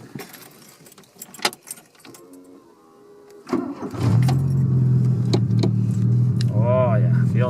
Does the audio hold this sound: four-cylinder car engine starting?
yes